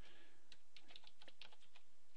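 Fast, quiet clicking of computer keyboard keys in an uneven run of taps over a faint steady hiss, close by and with no one talking.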